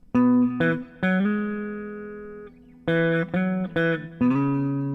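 A clean electric guitar plays a short melodic phrase of plucked notes, some sustained, with smooth pitch glides between notes, solo and close.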